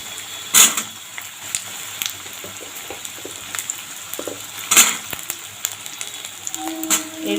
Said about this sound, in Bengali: এবার এখানে আমি বেগুনটা দিয়ে দেবো।